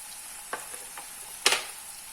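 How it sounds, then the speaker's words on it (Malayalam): Jackfruit, capsicum, green chilli and ginger being stirred in a hot pan with a soft steady sizzle, broken by a few light scrapes and one louder clatter of the spoon, nearby, no voices. "ഇതെല്ലാം കൂടെ ഒന്ന് വഴറ്റണം നമുക്ക്."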